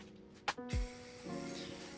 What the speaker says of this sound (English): I'm gonna go ahead and spray it with this matte clear coat finish.